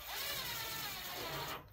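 A power drill or driver whirs continuously as screws go into an HP 3PAR 2U server rail kit, a close, steady motor drone lasting under two seconds before cutting off.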